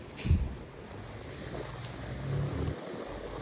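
Ocean waves wash against the shore at low volume, a soft continuous surf with a brief louder rush near the start and a gentle swell later, with wind noise on the microphone.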